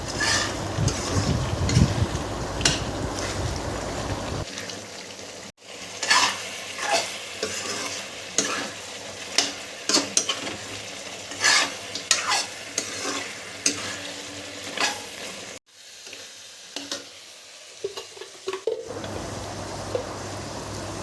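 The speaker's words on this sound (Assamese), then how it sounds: "হালধি দি ভালকৈ আকৌ মিলাই দিলোঁ লৰাই বগৰাই" Mutton curry with turmeric sizzles in a pan while a spoon stirs and scrapes it, giving a loud continuous frying hiss with repeated knocks and scrapes, briefly dropping quieter twice.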